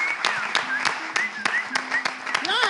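A studio audience claps in scattered, uneven bursts while a voice talks over the applause throughout.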